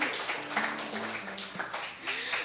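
An audience applauding two teachers at a Peruvian arts center event in Chicago, scattered claps and taps over a music-like hum, moderately near with uneven rhythm.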